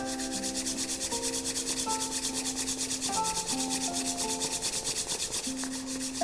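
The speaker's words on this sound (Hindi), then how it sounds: "दोनों हाथों को जोर से रब करें।" Two hands rub together vigorously during a guided meditation, making a continuous, close, brisk swishing friction. It runs without pause under soft, sustained background music tones.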